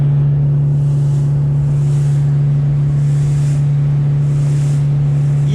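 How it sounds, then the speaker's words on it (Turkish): A motorboat engine held at about 4100 rpm gives a loud, steady low drone with a strong constant hum, and soft rushing water swells beneath it, with no voices. "Biraz daha basıyorum. 4100 devir 4000 gibi düşünün."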